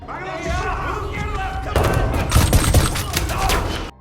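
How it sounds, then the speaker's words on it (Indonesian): Gunfire fills a film shootout with cartel members, a dense loud burst of rapid shots and heavy thuds layered over a rumbling background, with a voice mixed in. "Hingga tak lama mereka bertemu dengan beberapa anggota kartel lalu terjadilah baku tembak."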